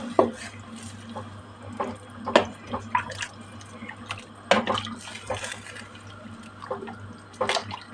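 Two litres of boiled water poured over vegetables in a broccoli soup pot, giving close, uneven splashes and drips that come in bursts over a steady low background.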